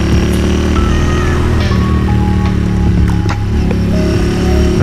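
A motorcycle engine runs loud and close with a dense, throbbing rumble, blipped for a rev match while riding, and the sound holds steady throughout with no speech.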